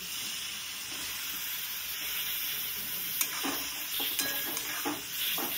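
Prawns sautéing in a pan with homemade red chili powder for a Malvani-style prawn curry, giving a steady bright sizzle with scraping stir strokes and utensil knocks toward the end.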